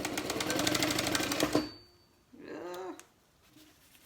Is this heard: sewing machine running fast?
yes